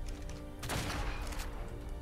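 Gunfire in the video game ARK on The Island map: one loud broadband blast with a sharp attack and a decaying tail, over steady game background sound, with no talking.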